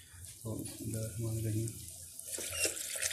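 Water poured into a cooking pot of rice on a home stove, a splashing, gurgling stream starting and running for a couple of seconds while a person speaks over it.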